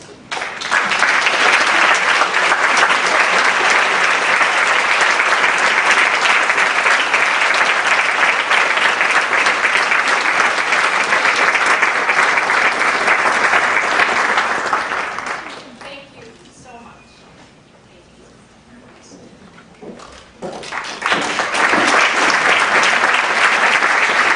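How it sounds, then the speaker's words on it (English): Sustained audience applause at a university graduation and awards night, loud and continuous for about fifteen seconds, then fading to a lull before clapping swells again. "let's give you a round of applause"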